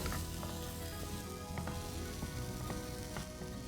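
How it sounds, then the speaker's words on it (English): Steady sizzling and frying of a cup of mashed potatoes added to hot green chili and ginger paste for a stuffed tomato pakora filling, with faint stirring clicks throughout and no talking. "Now I'm going to add in my potatoes,"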